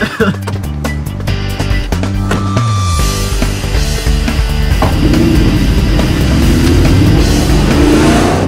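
A sports car serving as a taxi pulls away, its engine rumbling loudly and rising in revs as it accelerates, with background noise around it and no clear speech.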